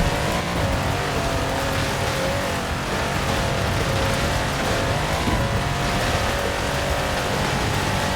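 A 6x6 off-road truck originally built for the Australian Army, engine accelerating hard in Forza Horizon 4, a loud continuous roar with a dense rumble under rushing wind and road noise.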